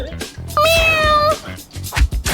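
A cat gives one clear, drawn-out meow in the middle, near and loud, framed by short bursts of nearby speech and other noises.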